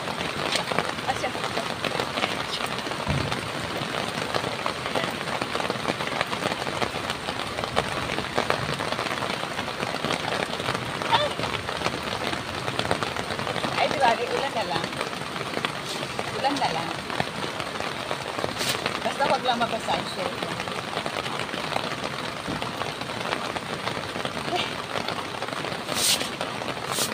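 Steady rain falling outdoors on surfaces, a constant dense patter that runs for nearly half a minute with occasional louder drops, while a person talks at times over it.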